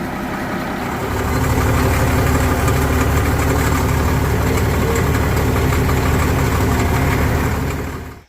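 An old CAT D6C bulldozer's diesel engine runs steadily after repairs, a loud, close, continuous low rumble that swells in the first second and holds before cutting off at the end.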